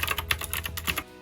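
Keys clatter in quick, uneven bursts on a Bluetooth mechanical keyboard, a dense run of crisp, close clicks with no voice over them.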